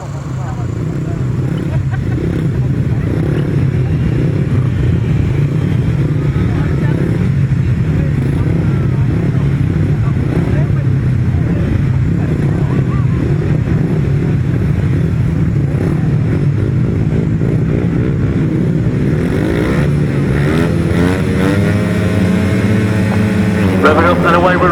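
Grasstrack racing motorcycles roar off the start and hold a loud, continuous engine drone throughout, with pitch shifting as they accelerate away, while a commentator talks over the noise.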